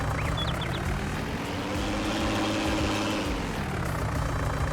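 Tractor engine hauling a sugarcane trailer in the Farming Simulator game, a steady loud low drone with rising and falling revs, running continuously alone with no talk.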